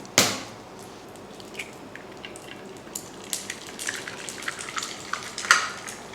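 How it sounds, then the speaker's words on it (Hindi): Eggs are cracked one at a time into a pan of hot oil and butter for a club sandwich. A sharp crack and splash comes first, then a soft, steady frying sizzle broken by scattered pops and spits, with no talk. "तो अब इसमें हम एक एक अंडा तोड़ के डालेंगे।"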